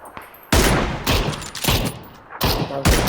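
Gunfire in PUBG: loud, close bursts of rapid shots in a rhythmic series, each crack trailing off briefly before the next.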